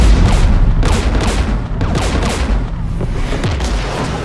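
Dense, loud gunfire in Mass Effect 3 (Legendary Edition) during a fight near a Geth jamming tower: overlapping rapid shots and booming blasts in a continuous barrage with no pauses.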